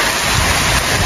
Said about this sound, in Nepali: यस्तो मिठो पानी परिरहेछ